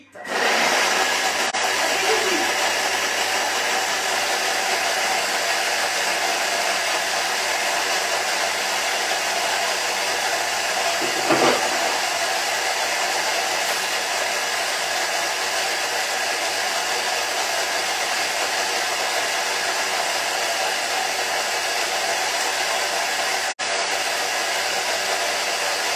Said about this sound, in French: on insère le couvercle et le gobelet doseur et on va mélanger pendant 30 secondes